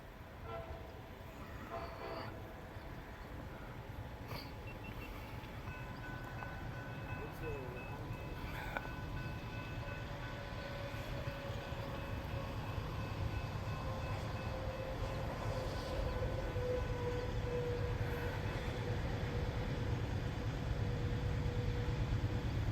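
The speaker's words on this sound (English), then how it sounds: "This is going to be a geometry train." A track geometry train rumbles steadily past with a continuous low roar, a faint horn toot rising early on and a long whining tone sliding across the middle.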